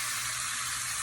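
Beef short ribs searing in a hot cast iron skillet make a steady, close hiss of frying fat that stays even and unbroken throughout.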